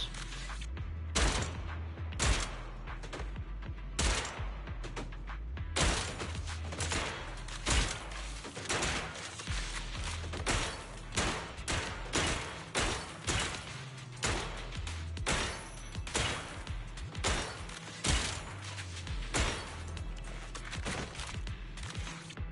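Gunfire at a gun range in the video game Zenless Zone Zero, rapid repeated shots in a steady rhythm continuing for over twenty seconds, fairly quiet and without talk.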